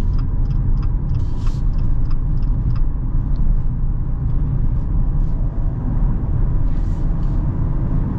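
The four-cylinder engine of a 2024 Jeep Compass Trailhawk accelerates onto an interstate, a steady low engine rumble blending with road and wind noise inside the cabin. A few faint clicks sound early on, and no one speaks.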